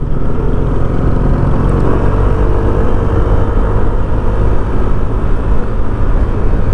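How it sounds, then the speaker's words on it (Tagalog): A Honda Click 160 scooter engine runs steadily, a loud continuous low hum and drone while riding, with no one talking over it. "parang brand new pa rin yung tunog ng ating engine"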